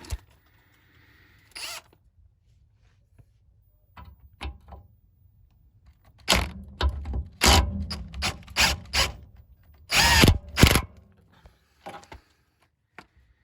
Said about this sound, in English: use my trusty impact. Just nip it up.